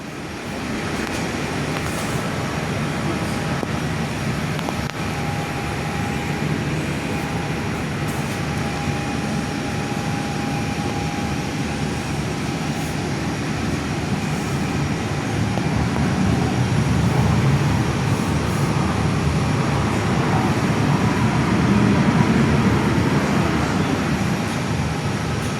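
A Jetstar Airbus A321LR jet coming in to land on runway 24, heard from an indoor viewing spot as a steady, broad engine roar that swells slightly toward the end, with no talking.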